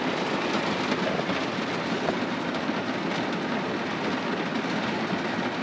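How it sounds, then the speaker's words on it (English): Heavy rain pours steadily onto a camper in Wales, a dense, even roar of drumming drops that stays loud and unbroken throughout, with no voices. "I wait for the downpour to end"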